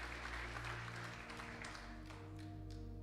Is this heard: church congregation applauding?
yes